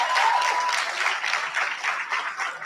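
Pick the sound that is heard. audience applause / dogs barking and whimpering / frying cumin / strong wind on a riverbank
audience applause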